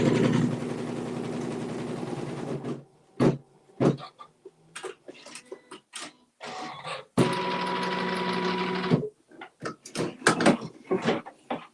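Embroidery sewing machine stitching to tack down fabric, with two stretches of steady mechanical whirring and rapid needle clatter, separated by sparse clicks and handling knocks.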